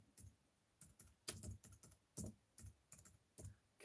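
Computer keyboard typing in short irregular bursts of clicky keystrokes, close and fairly quiet, with pauses between clusters and no talking.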